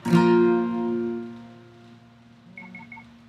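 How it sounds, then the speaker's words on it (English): A phone rings with a loud tonal chime that starts sharply and fades, followed by a few quieter repeated beeps. "Sorry, my phone went off."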